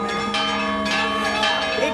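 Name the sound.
church bells ringing at royal wedding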